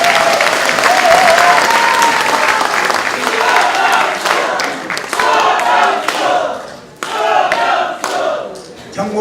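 An audience at a Korean political rally launching local election candidates applauds loudly and steadily, dense clapping from a large crowd that dips briefly and swells again, with some cheering voices mixed in.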